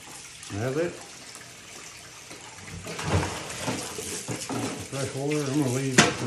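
Fresh tap water runs over a cleaned wild turkey breast at a sink. The flow splashes steadily with short louder surges, and brief vocal sounds come in near the start and end.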